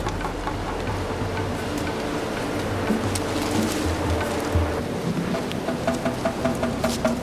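A jungle river waterfall roars in the distance as a broad, steady rushing wash, even and unbroken, with faint scattered clicks over it.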